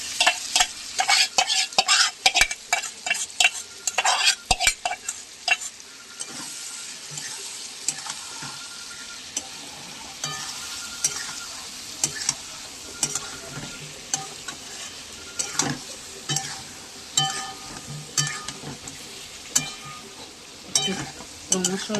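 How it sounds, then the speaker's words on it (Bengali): Chicken sautéed and stirred in hot oil, the spatula scraping and clacking against the pan in busy bursts over a steady sizzle, close and fairly loud, with no talking. "দেখুন বন্ধুরা, চিকেনটা কষা হচ্ছে, দেখুন কিরম তেল ছেড়ে আসছে বন্ধুরা।"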